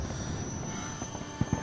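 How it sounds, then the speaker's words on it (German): Helicopter in the video game Days Gone, a steady rotor and engine drone with a rhythmic chopping pulse that swells toward the end, heard without speech. "Wir müssen zu diesem Heli."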